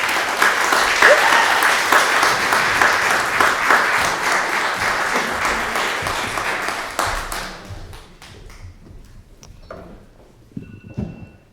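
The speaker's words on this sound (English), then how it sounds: "Everyone give a very warm round of applause." A crowd at a spring book launch gives loud, close applause lasting about seven seconds, then it dies down into a few scattered claps and small room noises.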